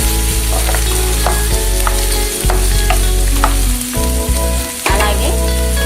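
Chopped garlic, ginger, green chilli, onion, carrot and cabbage sizzle in a pan for momo filling, a steady loud frying hiss broken by the scrape and stir of a spatula.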